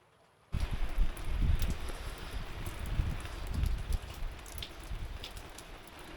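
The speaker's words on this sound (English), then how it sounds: "now we've got rain, but the wind has come in from the southeast" Wind buffeting a microphone aboard a boat anchored off a lee shore, with rain pattering and gusty rumbles after a sudden start, moderately loud and continuous with no talk.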